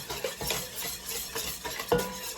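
Vanilla is stirred into caramel rum cake batter with a utensil, sounding as close, busy scraping and soft clinks against the bowl over a couple of seconds, with no talking.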